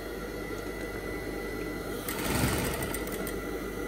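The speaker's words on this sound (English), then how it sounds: "Sewing gently, and this is for your reverse stitch." Industrial sewing machine running a reverse stitch, a steady mechanical whir of the needle drive that picks up and grows louder around midway, heard alone without talk.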